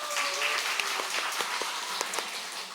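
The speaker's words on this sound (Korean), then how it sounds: "감사합니다. 박수 쳐주셔서." Applause from a church congregation after a mission-team testimony, moderately soft clapping that sounds a little distant and carries on steadily, with a few sharper claps standing out.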